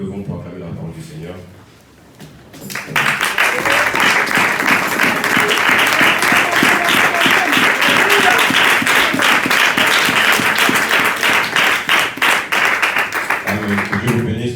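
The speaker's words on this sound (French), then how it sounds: "Nous levons pour acclamer la parole du Seigneur." A church congregation breaks into sustained loud applause during a Sunday service, a dense wash of clapping lasting about twelve seconds, preceded and followed by brief speech.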